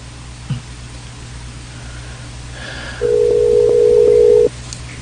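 A telephone dial tone sounds while a call is placed, a steady electronic hum starting partway in and holding for about a second and a half over low background hiss, then cutting off.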